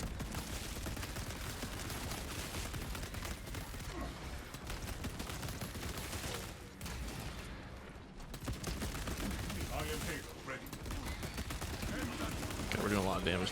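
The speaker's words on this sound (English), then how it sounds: "this is the accuracy variant of the Heavy Bolter" Accuracy-variant Heavy Bolter fire tears through a Tyranid swarm in Warhammer 40K Space Marine 2, dense continuous gunfire with brief lulls, and a voice talks under it.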